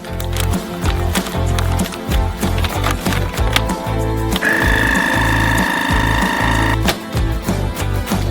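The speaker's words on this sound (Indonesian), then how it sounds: "Lalu kita vakum." A vacuum sealer draws air from a bag of seasoned burger meat. A close, loud motor chugs rhythmically at first, then settles into a steadier whining hum for a few seconds before the pulsing returns.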